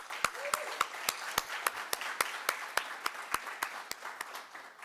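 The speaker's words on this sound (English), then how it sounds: "a great enthusiastic round of applause to our presenting sponsor, the Canadian Association of Petroleum Producers" An audience at an energy-sector event applauds the presenting sponsor, the Canadian Association of Petroleum Producers, with steady, evenly spaced claps that sound somewhat distant and fairly sparse, continuing throughout.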